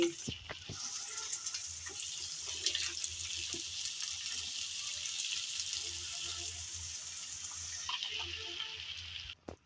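Small potatoes and yardlong beans tipped into onions frying in a pan set off a steady, fairly close sizzle that runs throughout, with a few clinks and clatters and a faint voice beneath.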